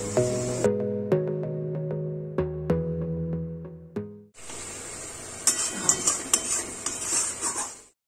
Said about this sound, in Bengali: তো মশলাটাকে কষিয়ে নেব।